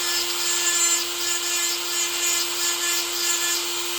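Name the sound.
Dremel sharpening chainsaw chain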